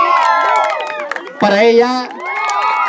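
A festive afternoon crowd at a village gathering in Cantón Ciricuario shouts, whoops and cheers loudly for a contestant, voices rising in a burst midway through, with a presenter talking over the noise.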